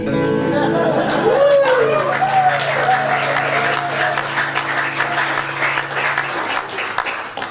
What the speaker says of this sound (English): I'd like to thank you for the applause